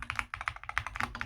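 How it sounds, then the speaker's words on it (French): Fast typing on a Madlions 68HE keyboard with magnetic switches: a rapid run of about a dozen crisp, close clacks in quick, slightly uneven rhythm, with no voices. "le petit Madeleine 68HE, donc un clavier magnétique. Les switches, c'est des switches magnétiques"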